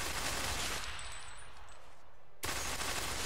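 Automatic rifle fire in Ghost Recon Phantoms, a dense, loud stream of rapid shots. The burst breaks briefly and then resumes at full volume, with no voices over it.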